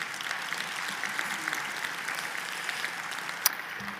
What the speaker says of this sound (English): Tiberio Graziani, and Tula Yariola, thank you so much. This is your applause